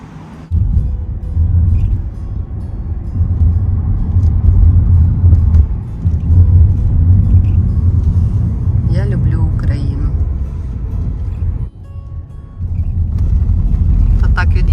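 A car drives through the streets of Kyiv in autumn, with a steady low engine and road rumble heard from inside the vehicle, loud and continuous, with a brief dip near the end.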